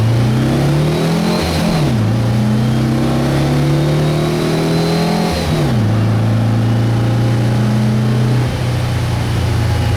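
A VW Beetle's high-compression super 1600 engine, with dual carburetors, a C35 Scat cam and ported heads, revs up and drops back in several loud, close bursts. No voices are heard.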